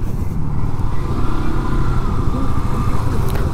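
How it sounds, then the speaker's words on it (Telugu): Motorcycles of a riding group rumble loudly along a muddy mountain road, their engines a steady, close, continuous drone with no talk. "మా ముందు ఎవరో బైకర్స్ ఉన్నారు."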